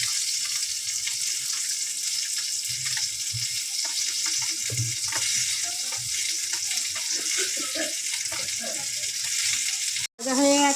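Lentil fritters made with pona fish sizzle steadily in hot oil, a continuous bright crackle with occasional stirring clatter, ending in a brief cutoff.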